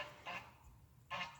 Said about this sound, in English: That big duck's coming towards me.